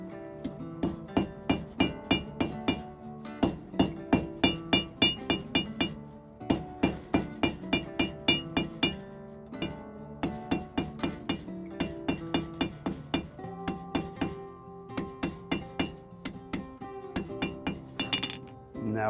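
A blacksmith's hammer strikes hot metal over and over to draw out a taper, ringing metallic blows in quick rhythmic runs broken by brief pauses, close and clear with no talk.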